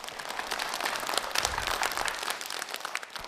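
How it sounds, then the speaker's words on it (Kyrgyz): A studio audience on a TV quiz show bursts into dense, sustained applause, with many hands clapping steadily close by. "Кол чабуулар болсун."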